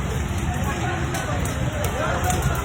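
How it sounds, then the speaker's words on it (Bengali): An oil shop at a market blazes in a large fire, a dense continuous roar and crackle heard up close, with crowd voices and talk mixed in throughout. "এখানে এই যে বিকেটে তেলের দোকান প্রায় ধাউ ধাউ করে ধরতেছে"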